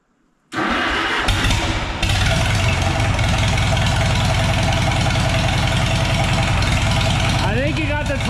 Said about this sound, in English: We're just gonna go straight to engine crank.